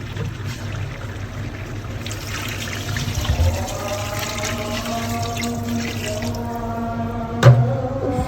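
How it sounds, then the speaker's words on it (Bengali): Water streams into a pot of Qurbani nehari, a close, continuous pouring trickle whose pitch rises as the pot fills, ending with a brief knock. "ঠিক আছে, আমরা এখন একটু পানি দিয়ে দেবো।"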